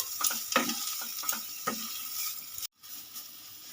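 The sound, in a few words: stirring bean mash with chopped raw onion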